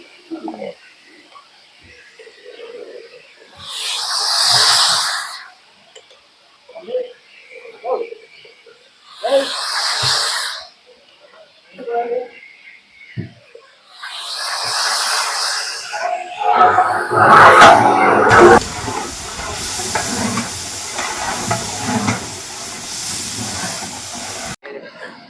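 A large batch of about fifteen bunches of spinach with some mint frying in a big pot for bulk chicken chops cooking. Several loud hissing bursts come first, then a continuous heavy sizzle, with people talking between them.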